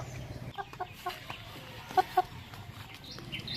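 A few short clucks from a domestic rooster, two sharper calls close together, over a quiet background with faint distant noise.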